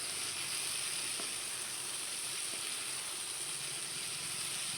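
Jackfruit seeds hitting a hot pan for a mixed vegetable dish give a steady, faint sizzle and hiss that carries on evenly throughout, with no talking.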